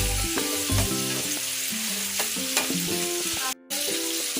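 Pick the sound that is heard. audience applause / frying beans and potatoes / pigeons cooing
frying beans and potatoes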